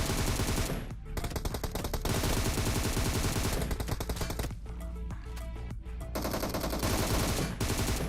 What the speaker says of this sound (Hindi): बेचारा गन ही चलाता रह गया और मैंने उसको आराम से मार दिया।